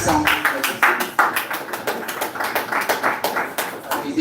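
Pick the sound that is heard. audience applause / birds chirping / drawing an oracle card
audience applause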